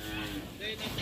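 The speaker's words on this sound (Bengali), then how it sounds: "এখানে অনেক গুড়া গাভী।" Cattle lowing at a farm in Italy, a cow's deep moos rising and falling in a couple of drawn-out calls over steady barn background noise, fairly close.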